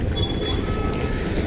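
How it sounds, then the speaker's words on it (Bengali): A train at New Delhi railway station on a foggy morning gives off a steady rumble across the platform, with a faint high squeal above it and no clear talk. "এই হচ্ছে নিউ দিল্লি রেলওয়ে স্টেশন।"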